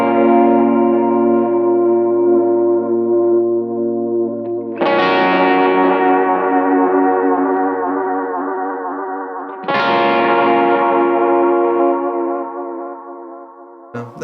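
An electric guitar played through a Kemper Gioverb profile rings out in three loud, sustained distorted chords, each struck hard and left to decay, with a compressed tone, heavy echo and chorus shimmer.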